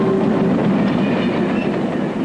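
A Canadian Pacific railway freight train rolls past close by, a loud steady rumble of wheels and cars with faint clickety-clack and no voices over it.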